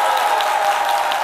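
Studio audience applauding a choir on a live television show, a steady dense wash of clapping that holds at an even level throughout.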